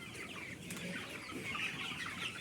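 A dense flock of about 500 broiler chicks, seventeen days old, cheeping continuously, many high chirps overlapping into a steady chatter with occasional soft clucks.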